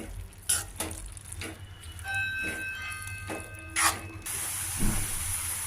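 Cabbage curry with sesame powder cooks in a pan with a soft sizzle, while scattered stirring scrapes and clinks sound close by and a steady hiss rises near the end.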